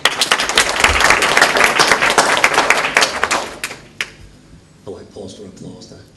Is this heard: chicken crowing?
no